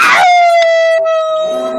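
A single voice imitates a wolf howling: one long, sustained wail that starts high and slides slightly lower before fading.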